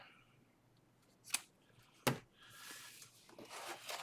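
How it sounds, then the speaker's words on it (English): Scissors snip through folded triple-layer paper while a handmade journal is put together, two short crisp cuts close by, then softer paper rustling and handling. "I'll just cut it open."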